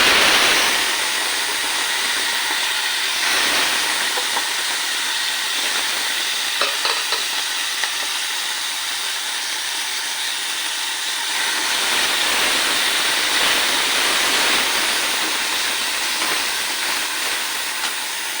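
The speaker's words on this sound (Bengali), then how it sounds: "হালকা করে মাছটা ভেজে নিই মাছটা" Morla fish shallow-frying in oil in a wok makes a loud, sustained sizzle that hisses steadily for many seconds, swelling in places and spiked with occasional crackles, and no one talks.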